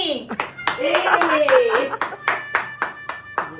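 A group of hands claps in a run of sharp, uneven bursts that settle into separate claps toward the end, with voices and laughter mixed in and overlapping at the start.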